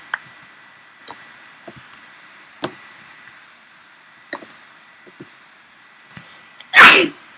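A single loud sneeze bursts out near the end, after a run of scattered faint clicks and taps.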